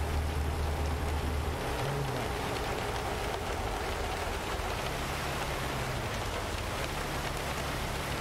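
Steady rain in the American Truck Simulator video game, a constant hiss with a low engine rumble beneath it, even and continuous throughout.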